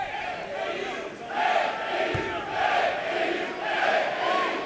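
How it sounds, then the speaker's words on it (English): Crowd at a college basketball game between IUPUI and Illinois cheers and roars in steady swelling waves during a free throw, filling a large arena with no clear talk on top. "Crowd giving him a little cheer in there to help him try to disfocus a little bit."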